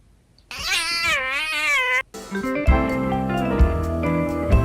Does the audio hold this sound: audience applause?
no